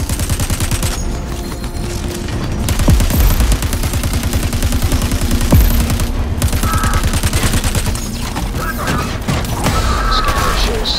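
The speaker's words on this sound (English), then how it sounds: "More gunfire and grenades coming your way." Sustained rapid automatic gunfire rattles loudly and almost without pause in a Crackdown 3 battle, with a couple of heavier explosive thuds from grenades breaking through the close, dense fire.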